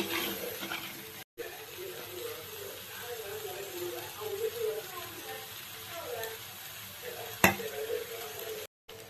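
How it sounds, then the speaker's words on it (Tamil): Chicken frying with masala in a pan for a chicken gravy, a faint, steady sizzle with occasional stirring scrapes, quiet and continuous with a couple of brief dropouts. "ஒரு 5 மினிட்ஸ் வந்து இந்த மசாலா கூட நல்லா சிக்கன் வந்து வதங்கணும்."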